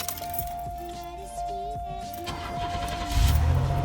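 A GM A-body car with a 3300 engine cranks and fires up, a steady electrical whine and starter clatter building into the engine catching and settling into a low idle near the end.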